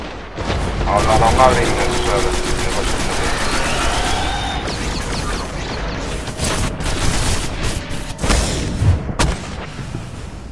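Gunfire and explosions in the PS4 Destiny beta game rumble heavily throughout with sharp blasts, while someone talks over the action.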